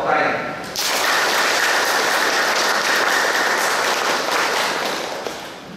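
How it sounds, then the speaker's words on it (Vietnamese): Dense applause from a crowd of wedding guests at a Catholic wedding ceremony, starting abruptly after a brief voice and filling the room steadily, then tapering slightly toward the end. "chúng ta hãy chào đón nhau bằng một tràng pháo tay"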